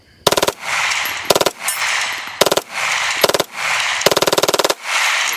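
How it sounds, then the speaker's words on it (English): Rapid gunfire bursts during a Texas hog hunt, five loud close volleys of quick rattling shots separated by short echoing gaps. "good shooting, Chris."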